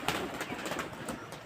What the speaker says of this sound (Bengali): দেখতে পাচ্ছেন আমার বাসার ছাদের উপরে কিছু কবুতর